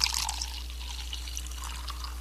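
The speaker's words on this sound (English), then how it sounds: "She poured a cup of coffee." Coffee is poured into a cup, a soft trickling liquid stream running steadily and fairly close over a constant low electrical hum.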